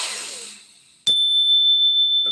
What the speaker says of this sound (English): That's called a bell.